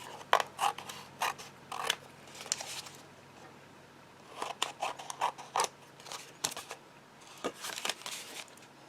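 Scissors trimming excess card stock on a handmade greeting card, a series of short crisp snips in small bursts separated by brief pauses, close and fairly quiet.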